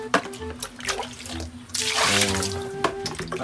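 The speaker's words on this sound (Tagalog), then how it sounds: "Sasabligan natin ng tubig ang kanyang tirahan" Water splashed and poured over a pet wild duck's enclosure, a broad rushing, gurgling wash that swells after a brief lull and keeps flowing steadily.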